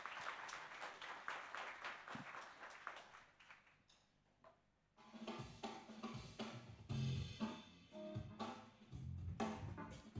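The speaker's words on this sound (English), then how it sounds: "Applause!" Audience applause at a startup pitch competition on a summit stage, a crowd of claps fading out, then a pause and someone speaking over shuffling and scattered noise.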